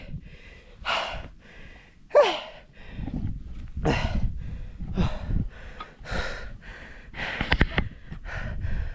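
Heavy, rapid panting from someone climbing a mountain trail in the Philippines, with repeated loud gasping breaths close to the microphone and a brief sharper gasp near the start.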